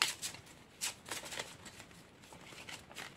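Stiff tarot cards rustle and flick through a shuffle and a single draw, a run of crisp papery slides and snaps heard close up and alone.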